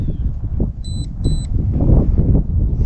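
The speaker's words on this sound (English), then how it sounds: "I'm not sure what the beeping is." A few short, high electronic beeps sound from a drone on a windy homestead, two quick pairs of tones over a loud rumble of wind buffeting the microphone.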